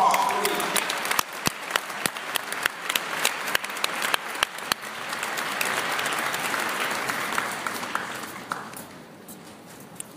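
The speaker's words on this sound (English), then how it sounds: "Give our swinging and diving team a round of applause, please." A crowd applauds the swimming and diving team at a university new student day gathering: sustained, dense clapping from a large audience that gradually thins and fades toward the end.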